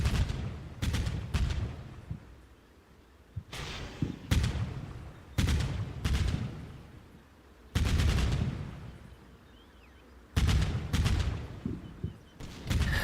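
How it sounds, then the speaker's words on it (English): A 30mm autocannon fires in the video game Combat Mission Black Sea, with loud, heavy bursts of rapid shots in several separate volleys and booming echoes fading between them, alone with no voices. "I get them to open up fire on the tree line as well as some of the buildings"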